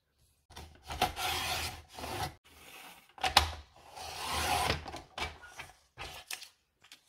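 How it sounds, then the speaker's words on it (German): Paper being trimmed along its lower edge for a flower-fairy junk journal page: several long, scratchy cutting strokes separated by short pauses, close and moderately loud, with no talking. "Unten schneide ich was weg."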